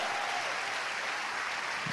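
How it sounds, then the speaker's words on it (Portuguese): A church congregation claps steadily and loudly for the full two seconds, a dense, unbroken wash of applause with no talk over it. "Aplaude o Senhor, igreja!"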